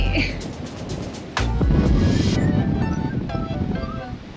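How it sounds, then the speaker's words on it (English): Gusty wind buffets the microphone outdoors in Key West with a roaring rush, a sudden thump partway through, and surf-like noise throughout. "It's windy out here."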